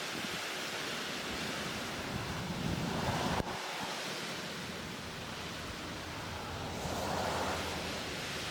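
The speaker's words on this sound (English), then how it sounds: "the storm's mouth swallowed me whole, spitting out sub-severe wind gusts and heavy rain" Storm wind roars in sustained gusts across an open field in Virginia, with heavy rain hissing steadily throughout and surging louder near the middle and end; no voices.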